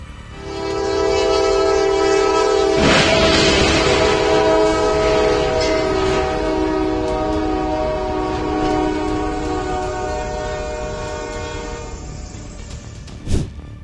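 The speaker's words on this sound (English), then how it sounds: "the so-long truck failed to clear the tracks in Austell, Georgia, and was struck by a Norfolk Southern freight train." A Norfolk Southern freight train strikes a truck stuck at a rail crossing in Austell, Georgia. A loud, sustained horn blares throughout, with a sharp crash-like burst early on and another brief bang near the end.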